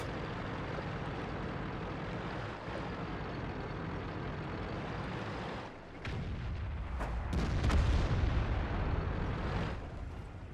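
Tank cannon shots in the World of Tanks game, a few booming reports and a heavy rumbling impact around the middle, set against a steady engine drone, with no voices over them.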